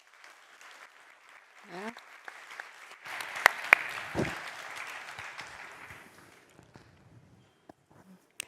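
Audience applause at a plenary session on kleptocrats, criminals and traffickers at an anti-corruption conference, a moderate broadband patter swelling in the middle and fading out, with a brief spoken word and occasional sharp claps or knocks.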